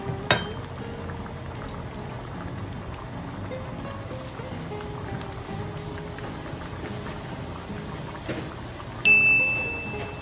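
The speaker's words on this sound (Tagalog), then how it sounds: "So, kumukulo na po siya." Mung beans boiling in a pot, a steady low churning simmer with a brief clatter at the start and a louder splash near the end.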